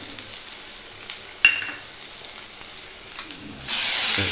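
Garlic and tomato hitting hot oil for brinjal thokku, a steady crackling sizzle with a sharp clatter as they drop in, then a louder surge of hissing frying near the end.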